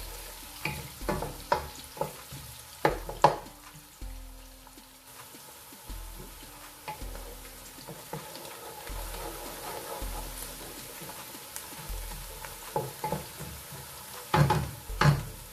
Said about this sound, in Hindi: प्याज को आपने बिल्कुल बराबर जो है फ्राई करना है